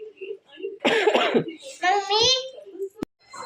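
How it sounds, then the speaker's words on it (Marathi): A small girl coughs a couple of times up close, short raspy bursts set among a child's chatter and other voices, with a sharp knock near the end. "खोकला झालाय तिला"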